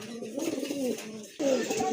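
Two Satin pigeons, a pair offered for sale, give close, clear cooing calls in drawn-out rolling phrases, one phrase ending and another starting louder after a short break.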